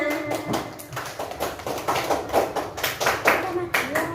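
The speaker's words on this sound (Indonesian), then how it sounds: "tepuk tangan buat Mbak Yumna" Schoolchildren in a classroom clap for a classmate, a lively burst of many hands at close range, uneven and energetic, with voices chattering through it.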